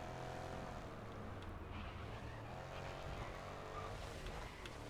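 A car sliding through a handbrake turn in the racing game GRID Legends, with a steady engine roar and a scrubbing tire skid running continuously at close range, no voices.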